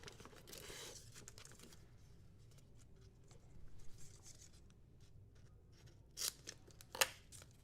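Scissors cut through a piece of foil for an Easter basket craft, a quiet steady crinkly snipping that ends with a couple of sharper, louder snips near the finish.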